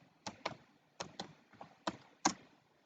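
Typing on a computer keyboard during an HTML coding tutorial: soft, close key taps in an uneven rhythm, about eight distinct strikes with short pauses between them, quiet and with no talking.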